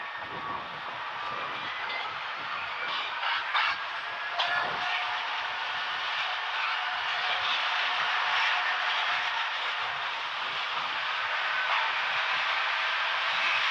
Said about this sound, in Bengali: ভৈরববাজারে কিন্তু লোক রিভার্স করার জন্য ইঞ্জিন কিন্তু খুলে ফেলা হয়েছে। এটিকে নিয়ে যাওয়া হচ্ছে কিন্তু এখন সামনের দিকে